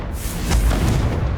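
A Confringo fire spell bursts into a deep, rumbling explosion inside a mine in Hogwarts Legacy, a sustained booming roar that swells and fades.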